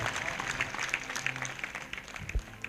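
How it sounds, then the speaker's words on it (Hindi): A congregation at a Christian morning prayer service claps loudly in a dense, crackling burst of applause that runs throughout, with a voice faintly present underneath. "एक जोरदार ताली बजाएंगे इस वचन के लिए।"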